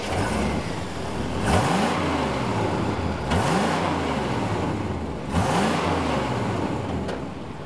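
A 1988 Chevrolet one-ton dually pickup with a 454 V8 cruises northbound on an interstate on a cold day. A steady engine drone runs throughout, with three swelling whooshes as traffic passes.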